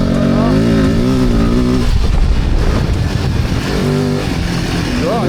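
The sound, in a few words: off-road trail motorcycle engine accelerating in mud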